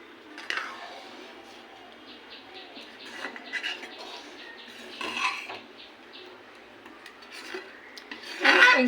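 Spoon scraping the skin of boiled milk against the side of a pot while making payesh with rice, soft intermittent scrapes and clinks up close, with a sharper metallic burst at the end.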